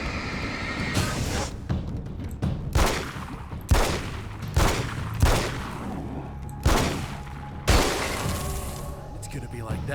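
Gunfire in the video game Alan Wake, a series of sharp, loud shots fired at irregular intervals, mixed with game sounds and a voice speaking now and then.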